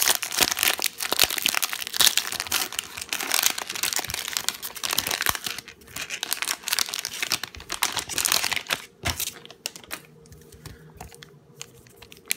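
The plastic wrapper of a 2017 Bowman baseball card rack pack being torn open, giving steady close crinkling and crackling for several seconds that thins out toward the end.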